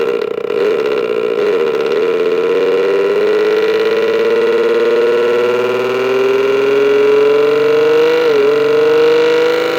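Motorcycle engine sound generator played through an amplifier, a loud continuous droning engine note whose pitch slowly climbs over about ten seconds with a brief blip near the end, no talk.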